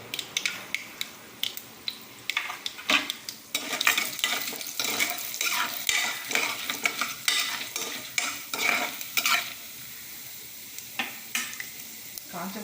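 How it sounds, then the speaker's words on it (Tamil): Mustard seeds, chana dal and urad dal frying in hot oil for tamarind rice: a close, lively crackle of popping seeds with repeated spatula scrapes and stirring strokes at a steady pace. "கடுகு நல்லா பொரியட்டும் கடுகு பொரிஞ்சிச்சு இதில் கடலைப்பருப்பு போட்டுக்கலாம் அதுக்கப்புறம் உளுத்தம்பருப்பு"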